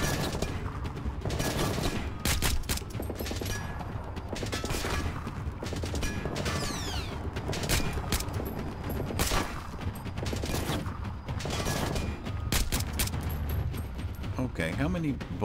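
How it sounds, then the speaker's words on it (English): Gunfire in a Splinter Cell: Blacklist gunfight crackles in repeated sharp bursts and volleys over a steady mechanical background, fairly loud and continuous, with scattered voices underneath. "this is the part about Splinter Cell that people didn't like, how he can get into these gunfights"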